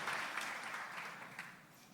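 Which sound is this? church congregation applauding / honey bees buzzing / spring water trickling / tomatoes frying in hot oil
church congregation applauding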